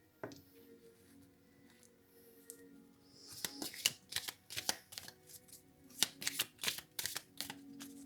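Tarot cards being shuffled by hand for a four-card spread, quiet at first and then a series of crisp riffling and flapping bursts in an irregular rhythm, close and fairly soft.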